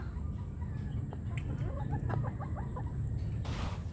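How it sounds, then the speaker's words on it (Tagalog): A Mt. Banahaw line broodcock rooster gives a short series of low clucks amid steady outdoor background noise on a gamefowl farm, fairly faint and not far off. "Ito yung aming broodcock"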